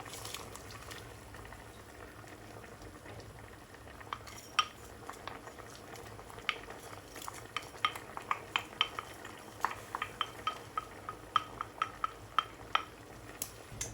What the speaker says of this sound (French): On va rajouter des lentilles que j'ai rincées